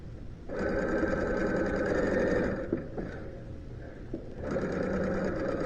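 Sewing machine stitching a seam on a large quilt project, a steady mechanical whirring run that pauses briefly midway with a few clicks, then resumes at a close, even pace.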